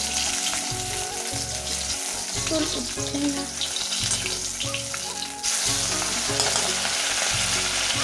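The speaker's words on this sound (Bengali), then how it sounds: "আগে আমি মাছটাকে ভেজে নিই তো কড়াইতে মাছটা দিয়েও দিয়েছি" Fish frying in a wok makes a loud, continuous close sizzle with occasional stirring, while a low rhythmic hum pulses underneath and a brief voice is heard.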